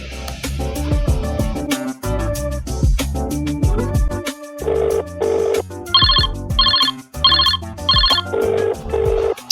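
A telephone rings in repeated short bursts over busy background music, each ring a bright electronic trill recurring at a steady rhythm.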